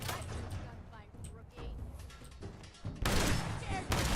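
Shotgun fire in Fallout 4, loud blasts and chaotic combat noise with a strong burst near the end, heard under and between someone talking.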